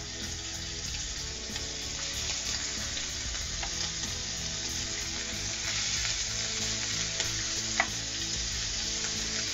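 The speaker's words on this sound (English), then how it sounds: "I'm going to put them in seasoned side down so that we can season up the other side." Scallops sear in a hot pan, seasoned side down, giving a steady, close sizzle and crackle of frying that holds throughout with faint clinks and no talking.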